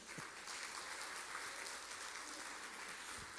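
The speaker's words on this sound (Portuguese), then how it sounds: "Vamos aplaudir o Senhor?" A church congregation applauds together in a steady, moderately distant wash of clapping, faint and even throughout with a few low thumps.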